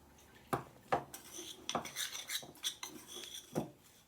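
Irregular scraping and clinking of a utensil against a bowl while mixing oatmeal stuffing, several sharp strokes amid softer rubbing, close by.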